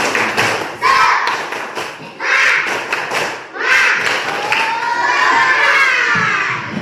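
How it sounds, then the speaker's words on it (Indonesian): Children and adults performing a tepuk semangat spirit chant, loud shouted rhythmic bursts with sharp claps and taps in repeated phrases, close and energetic, separated by brief pauses. "Coba Ibu mau dengar dulu tepuk semangat."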